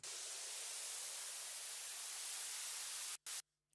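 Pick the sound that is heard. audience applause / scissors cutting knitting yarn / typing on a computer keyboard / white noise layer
white noise layer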